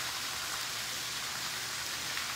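Steady rain falls in the mountains as an even, dense hiss with no breaks or voices.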